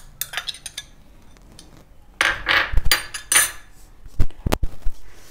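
Mango pieces go into a mixer jar for an oats and mango smoothie: a few light clinks, then a burst of close clattering knocks and thuds against the jar, with no talk.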